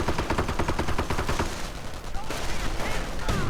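Video game battle gunfire from .50 caliber machine guns and Browning automatic rifles: dense, continuous rattling bursts of automatic fire, loud and overlapping throughout with brief pauses.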